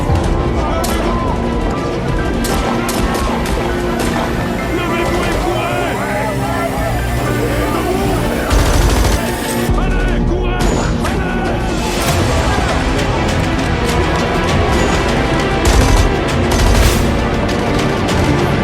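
Gunfire erupts in a film battle at the Sobibor Nazi death camp as prisoners fight guards, with dense, loud booms and bursts layered over a thick soundtrack and voices throughout.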